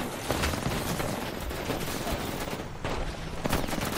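Continuous gunfire in an online ranked shooter match, dense overlapping bursts of shots at steady loudness with brief louder cracks, nearly free of talk.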